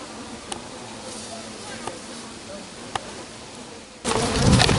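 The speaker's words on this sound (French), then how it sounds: "il y a énormément de frelons. Regardez comment ils attaquent" A swarm of honey bees under attack by a large number of hornets: a steady insect buzz fills the air with a few sharp ticks, then grows louder and rougher near the end.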